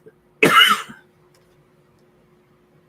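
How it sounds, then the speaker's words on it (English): A single sharp cough, close and loud, with a short throaty tail, then near silence. "I'm going to cough again."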